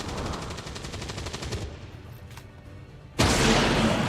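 Rapid automatic gunfire in XCOM 2 rattles steadily for about a second and a half and then fades into a quieter lull before a loud, sharp burst of fire breaks in near the end.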